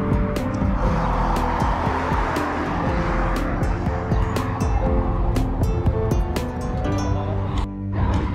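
A car pulls away and picks up speed on a city road in Al Khuwair, Muscat, Oman, as a signal turns green; the engine note rises steadily, loud and close, with road and traffic noise around it.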